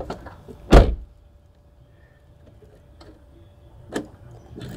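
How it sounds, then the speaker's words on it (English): A freshly cut car key turned in a door lock, with one sharp loud clunk as it unlocks, quiet ticks after it, and another softer click near the end, all heard close. "Our freshly cut key into the door. Turns, unlocks."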